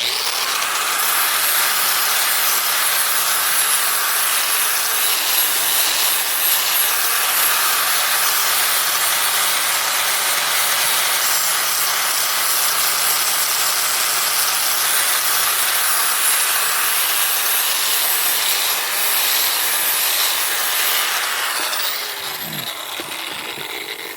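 An angle grinder grinds down welds on a beginner's metal welding project, giving a loud, continuous, hissing whine that runs unbroken for most of the clip before dropping off near the end.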